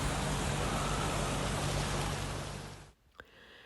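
Heavy rain in Valencia pours steadily as a dense, loud hiss that fills the scene for about three seconds, then cuts off abruptly, leaving near-silence with a brief faint knock.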